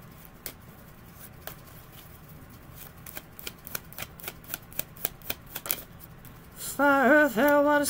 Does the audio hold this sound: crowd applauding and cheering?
no